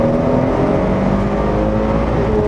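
A Nissan 300ZX accelerating hard from a launch, a steady loud close engine drone with rising harmonics throughout, no talk.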